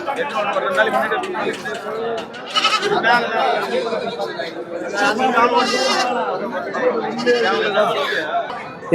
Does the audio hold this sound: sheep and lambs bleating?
yes